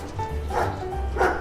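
Puppy yapping indoors, a few short high yips and whimpering barks at close range, over a low background hum.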